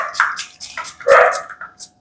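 A dog barks a few times, close and fairly loud, in short separate yelps over a quiet background.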